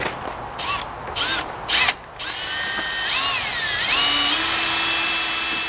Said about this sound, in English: we'll go ahead and drill our pilot hole.